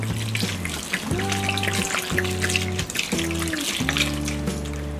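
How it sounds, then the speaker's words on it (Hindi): Grated potatoes being rinsed in a bowl of water, with steady sloshing and splashing close by and no talking. "अब हम इसे वॉश करेंगे।"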